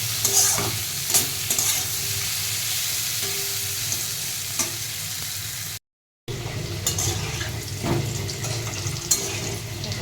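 Pumpkin slices frying in a pan, a steady close sizzle with intermittent stirring and utensil scrapes, broken by a brief cut of silence midway, with no talking.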